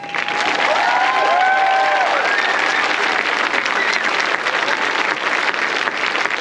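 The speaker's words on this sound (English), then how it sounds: "How about another round of applause for our summer band students?" Applause and cheering from a large outdoor crowd at a marching band pie fest celebration honoring summer band students, loud and sustained throughout, with a few whistles early on and a bright dense wash of clapping.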